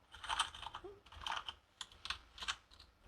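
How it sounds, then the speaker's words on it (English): Keys clatter on a computer keyboard while an email is typed, with uneven bursts of close, crisp clicks and short pauses between them. "when you're typing an email"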